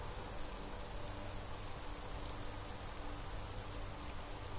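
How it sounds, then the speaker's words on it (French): Rain falls in the game Conan Exiles as a steady, dense, even hiss that stays loud and unbroken throughout. "Ah ben il pleut, il pleut, il pleut et le ciel il est toujours gris-noir."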